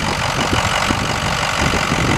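Tow truck's 6-liter engine idling with the hood open, a loud, steady close-up rumble with even mechanical clatter throughout.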